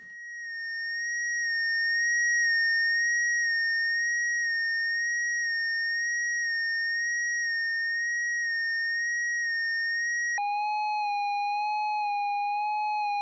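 A synthesized horror atmosphere tone: a steady pure pitch with faint overtones, slowly shifting in brightness, then abruptly dropping to a lower held pitch near the end, sustained and alone.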